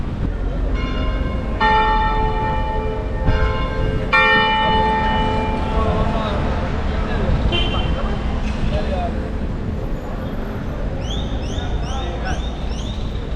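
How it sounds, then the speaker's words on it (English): Church bells in Panama City ring out for 11:30, several clear resonant strikes sounding over steady city traffic noise, with voices heard faintly in the background. "The sounding of the bell for 11:30."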